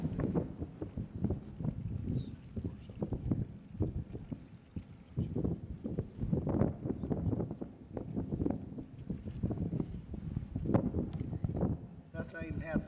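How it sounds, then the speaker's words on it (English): Gusty wind buffeting a microphone in an open farm field beside a strip-till berm, loud rumbling bursts that rise and fall, with someone talking intermittently over it. "little bit windy"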